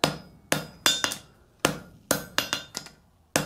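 Hammer blows ring out on hot steel at an anvil during a jump forge weld, a dozen sharp metallic strikes in uneven bursts, close and loud, each decaying quickly.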